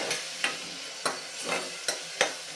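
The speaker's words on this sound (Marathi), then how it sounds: "ही प्युरी यामध्ये घालून घेऊयात मिक्स करून घेऊयात" Tomato purée being stirred into a potato and pea curry inside a pressure cooker, with a soft sizzle and about six sharp scrapes of the spoon against the pot at a steady pace.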